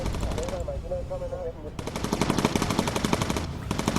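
Gunners aboard a bomber in the game Bomber Crew fire at enemy fighters, rapid machine-gun bursts in two stretches separated by a brief lull, close and loud, alongside a short warbling tone.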